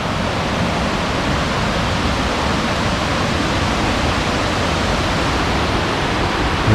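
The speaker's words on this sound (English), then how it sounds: "Another draw where the water is coming down and cutting away at the rock." Steady broadband rush of water running down rock at Burgess Falls, a continuous even wash with no pauses, close and moderately loud.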